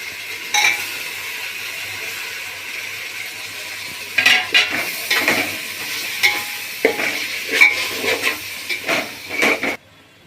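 Tomatoes go into a pan of frying Chennai biryani and are stirred in, with steady sizzling under repeated scraping and clinking strokes of a metal spoon against the pot, close and fairly loud.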